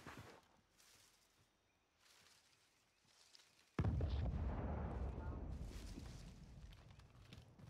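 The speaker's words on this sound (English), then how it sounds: "Sounds like a tank, doesn't it?" A tank fires in a video game: quiet, muffled game sounds give way to one sudden deep boom that rolls out into a long, loud rumble slowly fading over several seconds.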